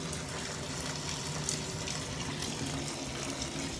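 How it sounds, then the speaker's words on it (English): A shower runs at full flow, water spraying and splashing in a steady, dense hiss that carries on without a break, close and fairly loud, with no talking. "Christian accidentally turned the shower on."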